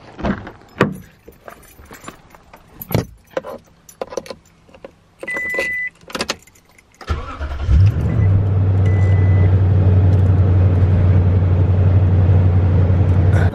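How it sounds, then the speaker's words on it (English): Truck on a frosty morning: keys jangle and a door thuds before the engine starts partway through, then settles into a loud, steady idle as it warms up. "Man, we gotta let the truck warm up."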